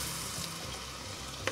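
Steady sizzling and faint crackling of rice grains toasting in a hot pot for mushroom risotto, with tiny irregular popcorn-like pops over a constant low hiss, close and fairly quiet.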